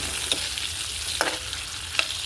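Onion, tomato and garlic sauté in a hot pan with a steady close sizzle, broken by a few brief scraping stirs of a utensil, with no talk.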